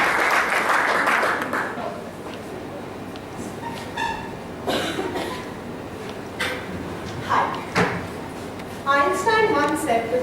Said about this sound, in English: So I'd like us to welcome her with a big round of applause.